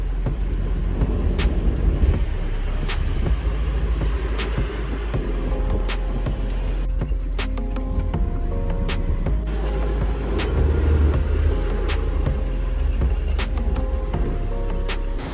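Jeep crawling off-road in 4 low on the Lockwood/Miller trail, a steady low engine drone with rattles and knocks from the body and terrain, heard from inside without talk.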